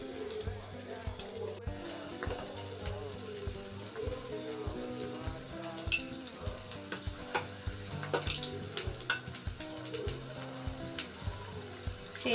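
Vada batter sizzling in hot oil over a medium flame for crispy homemade vadas, a steady frying crackle with soft bubbling and a few clinks of utensils, fairly close, over faint background music.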